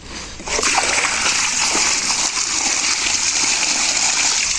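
Water dumped from a bucket lands in one loud, sustained splash and gush that keeps rushing for several seconds, close by and dominating the scene.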